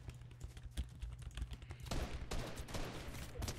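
Rapid bursts of gunfire in the video game Fortnite during a sniper exchange, with crackling shots that grow louder and denser partway through, with no voices over them.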